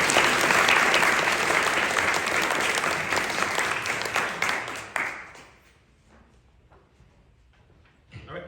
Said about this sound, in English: clap it up for Cody anyway